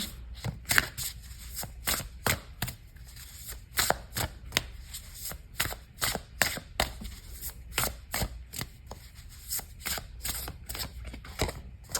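A deck of Animal Spirit Oracle cards is shuffled by hand in steady rapid riffles and slaps, close and fairly quiet, continuing without a break and with no talking.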